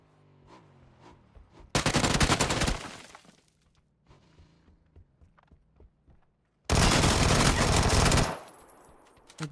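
Two long bursts of automatic gunfire in PUBG on console, loud and close, with quieter footsteps and clicks in the pauses between them.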